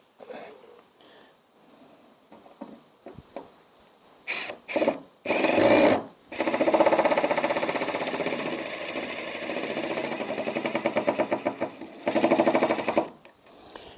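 A power drill drives a combination wood and metal screw through metal on a saw being modified, starting with short stuttering bursts and then holding a long steady whir, close and loud.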